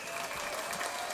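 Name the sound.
applause sound effect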